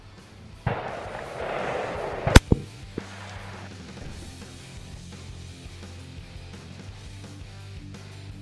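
A .350 Legend rifle fires a single sharp shot into ballistics gel outdoors, a loud crack followed by a brief echoing rumble and a couple of small pops, then quiet ambience.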